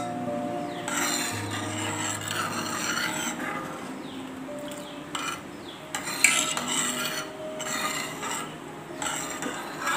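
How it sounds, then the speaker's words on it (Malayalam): A spoon stirs green gram payasam made with milk, cashews and raisins in a pot, producing repeated close scraping strokes and light metallic clinks against the pot. "നന്നായിട്ടൊന്ന് ഇളക്കി യോജിപ്പിക്കാം"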